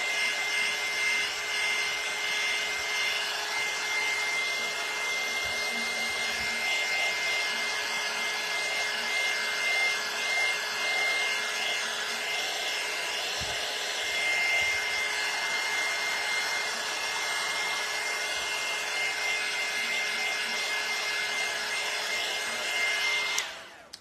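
Hair dryer blowing steadily on a freshly painted red stain on an Uncle Sam craft vase coated with Mod Podge, a continuous close whooshing hum running unbroken for the whole stretch before cutting off at the end.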